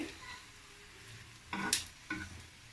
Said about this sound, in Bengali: আমি পিঠাগুলো এইভাবে ভাজতে থাকছি।